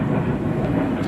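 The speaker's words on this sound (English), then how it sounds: "Oh, there's a plane going over as well" A plane from RAF Valley passes overhead on Anglesey, a steady, continuous low rumble of engine noise that holds at an even level throughout, with no talking.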